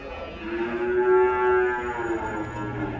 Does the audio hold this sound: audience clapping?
no